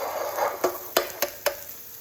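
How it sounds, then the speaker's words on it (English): A couple of eggs crack and drop into a hot pan, giving a few sharp taps and sizzling bursts over a steady frying hiss nearby, with no talking. "I'm gonna put a couple eggs in here."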